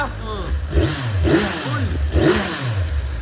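A Kawasaki Z1000R motorcycle engine revs up repeatedly, each throttle blip rising and falling in pitch, loud and close, with a gruff idle between revs.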